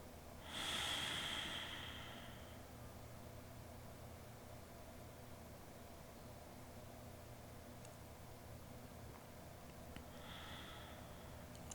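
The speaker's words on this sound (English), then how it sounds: "As we take another 3 rounds of breath here." Slow, deep breathing during a gentle yin yoga session: one audible breath early on, a long quiet pause over low room hiss, then another soft breath near the end.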